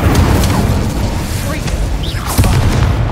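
Incendio fire spell cast in Hogwarts Legacy, a burst of crackling blast and whooshing flame in a busy game scene, loud and close with bright swept tones over a steady rumble.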